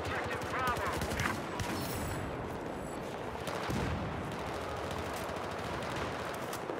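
Shotgun slug fire and other gunfire crack through a Battlefield 4 firefight, with dense overlapping shots and explosions forming a continuous loud battle din while a voice talks over it.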